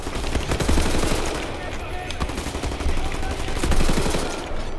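Assault rifle fire in the shooter game The New Order, rapid repeated shots in sustained bursts with a loud, dense crackle, mixed with game action and a voice talking over it.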